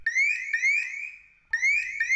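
A gas detector's alarm blares loudly in a repeating pattern of rising electronic tones, two quick bursts, a short fade, then the pattern starting again, close and alone.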